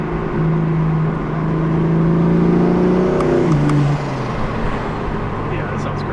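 A BMW F82 M4 with a single Garrett G40 1150 turbo revs hard nearby, its engine note climbing and then dropping as the throttle closes, loud and throaty, with people talking over it.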